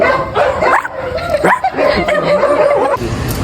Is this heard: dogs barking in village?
yes